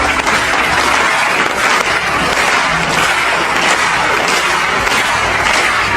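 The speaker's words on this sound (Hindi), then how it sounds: "इस वीडियो में ऑडियंस एक परफॉर्मेंस के लिए तालियां बजा रही है।" Audience applause after a performance on London's Millennium Bridge, a dense, loud, continuous wash of many hands clapping throughout, with faint crowd murmur underneath.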